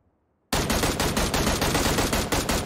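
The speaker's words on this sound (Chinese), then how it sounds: "将其击倒的同时，前后方都响起了枪声" Rapid automatic gunfire in the shooter game Peacekeeper Elite, a loud, close burst of evenly spaced shots starting abruptly after a short silence and continuing steadily to the end.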